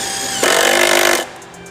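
A 12 volt drill drives a screw into solid timber, a loud, steady whirring burst lasting under a second before stopping, with quieter handling before and after.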